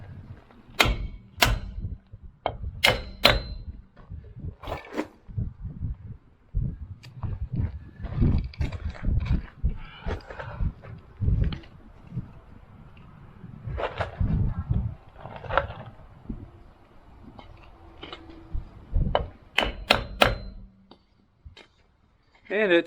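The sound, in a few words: hammer tapping on a block of wood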